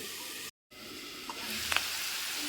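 Onions and vegetables fry in oil in a pan, giving a steady close sizzle and hiss with a brief silent break and a few faint clinks or stirring touches.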